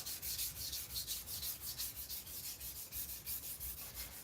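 A knife is drawn across a sharpening stone with firm pressure, a quiet, even rasping of about eight back-and-forth strokes in a steady rhythm, close by and alone.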